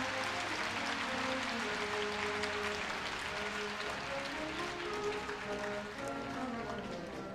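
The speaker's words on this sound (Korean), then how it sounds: "다시 한번 큰 박수 부탁드립니다." A crowd applauds at a university entrance ceremony in a large hall, with steady, distant clapping and faint background music or voices underneath, fairly quiet and sustained throughout.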